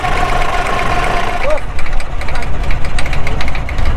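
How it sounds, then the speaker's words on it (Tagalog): A loud, rattling motorbike engine runs continuously close by in Dubai, with a brief voice partway through. "Nasa motor tayo, maingay."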